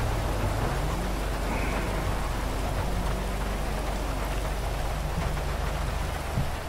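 Steady rain falling in a roleplay game set in Sandy Shores, a dense continuous hiss of drops on surfaces with a low rumble underneath, no talking.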